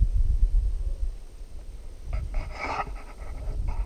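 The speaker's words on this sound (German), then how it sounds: "Der Hund ist schon da." A dog pants on a hot outdoor hike in a Mediterranean setting, a short burst of quick breathy huffs up close over steady low wind rumble, rising mainly in the second half of the clip.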